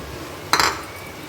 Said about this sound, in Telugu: ఇప్పుడు మనం ఉప్పు, పసుపు వేసి ఉడికించి పక్కన పెట్టుకున్న మటన్ కీమాని ఇందులో వేసేసుకుందాం